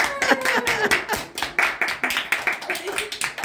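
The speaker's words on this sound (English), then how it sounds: "give them a hand clap and maybe they'll talk" Group hand clapping at a church Sunday school gathering, fairly close and uneven, a loose run of distinct claps that never settles into a steady beat, with voices mixed in among them.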